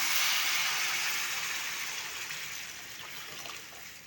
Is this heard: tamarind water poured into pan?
yes